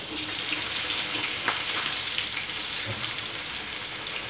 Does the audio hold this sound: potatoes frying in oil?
yes